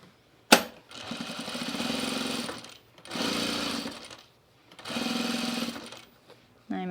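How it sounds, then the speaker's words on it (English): A sewing machine stitching a flat felled seam on a side vent, three close bursts of rapid mechanical whirring separated by short pauses, with a sharp click at the start and no talking. "we're gonna sew the rest of our flat felled seam"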